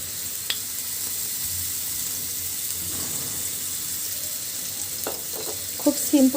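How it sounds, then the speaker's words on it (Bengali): Oil sizzles in a wok over a stove as the contents are stirred. A constant frying hiss carries through, and near the end a few louder scrapes and clatters from the spatula come in. "দিয়ে দিচ্ছি কড়াইয়ের ভিতরে তেল,"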